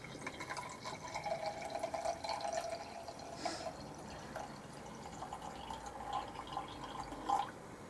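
Water trickles and splashes steadily into a container while measuring water for soap making, a quiet continuous pour with faint drips, no voices.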